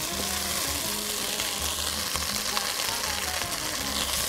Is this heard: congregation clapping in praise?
no